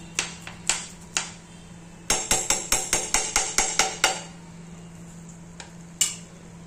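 A spoon works through modak dough mixed with ghee in a pan, giving sharp clinking and tapping strikes, a few scattered at first, then a quick regular run of knocks, then a lone tap near the end.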